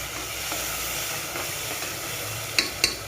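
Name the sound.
stirring ground masala into frying chicken gravy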